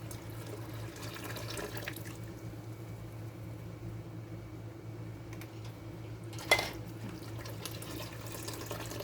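Water runs steadily from a kitchen tap during jar preparation for dilly beans, a soft continuous hiss with a low hum beneath and one brief clink of glass partway through.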